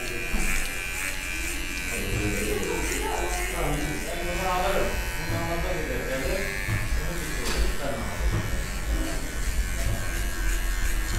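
Electric hair clippers buzz steadily and close while cutting hair for a high fade, the motor whine running throughout under a man's speech.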